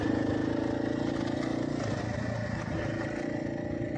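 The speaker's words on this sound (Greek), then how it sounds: "Εγώ θα κάνω τη διαδρομή με τη μοτοσικλέτα μου." A motorcycle engine drones steadily at moderate loudness as the bike rides a mountain road in Bolivia, the tone easing slightly partway through.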